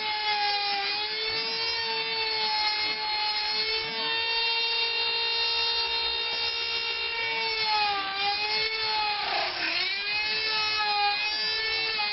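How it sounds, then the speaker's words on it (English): A handheld Dremel rotary tool cutting into a cloud sword build, a loud, steady high-pitched whine held for the whole stretch, with a brief dip in pitch as it bites into the material, close by and without talking. "Make sure you also hold your Dremel very, very firmly, because it will run away from you."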